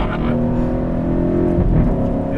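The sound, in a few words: sports car engine gear change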